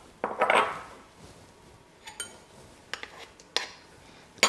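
Crushed garlic, three or four cloves, being mixed into sweet potato pancake batter in a bowl, heard as a flurry of utensil scrapes and clinks against the bowl, then scattered sharp taps and clinks spaced apart.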